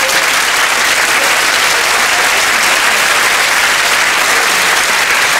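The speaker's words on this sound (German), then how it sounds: "ich habe hier die ganze Zeit so ein Klatschgeräusch auf dem Ohr" Steady, dense applause from a crowd of clapping hands runs loud and unbroken throughout, with no speech over it.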